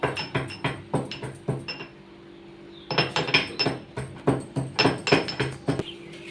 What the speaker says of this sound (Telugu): దీంట్లో ఎల్లుల్లిపాయలు వేసి తొక్కాలండి